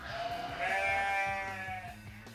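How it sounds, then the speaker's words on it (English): A single sheep bleat, a wavering baa heard clearly and fairly close against a low background. "Can you guess what kind of animal baas like that? That's right, a sheep."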